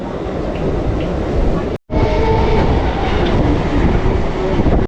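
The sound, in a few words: train running on rails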